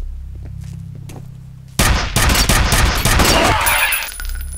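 Grenade blast in the shooter game F.E.A.R., a sudden loud burst that breaks over a quieter low hum and trails into a dense roar of crackling debris before fading.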